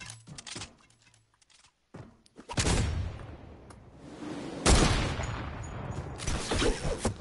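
Hand cannon fire in a multiplayer shooter video game, sharp loud reports in irregular bursts with gaps of near-silence between, close and dominant, with a short clicking stretch before the shots.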